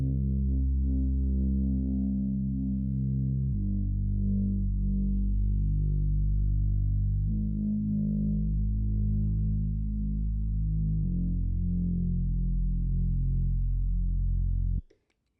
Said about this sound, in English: So now I'll let you guys listen to the bass sound on its own.